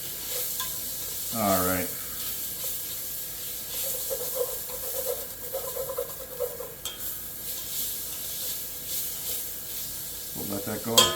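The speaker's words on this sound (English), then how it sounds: "Give our bacon a quick stir." Bacon sizzles steadily in a pan for corn chowder, with a spoon scraping and stirring through it up close. Someone speaks briefly near the start and again at the end.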